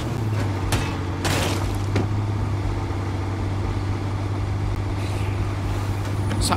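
A truck engine in State of Decay 2 holds a steady, low, mid-loud hum, with a few light knocks and clatters.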